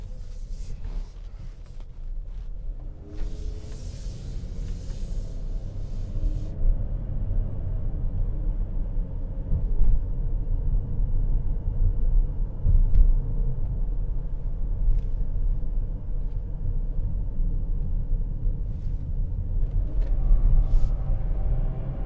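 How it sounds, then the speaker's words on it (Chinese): A 2017 Chrysler Pacifica accelerates, its engine and road noise a steady low rumble that swells and holds for a long stretch, heard from inside the cabin. "加速还是挺给力的啊，当然我没有踩到底，但是小推背感吧"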